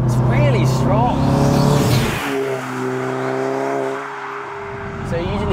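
Stage 3 tuned Audi S1 with a turbo revving hard up through the gears from close range, pitch climbing and dropping at each shift, with some voice over the engine.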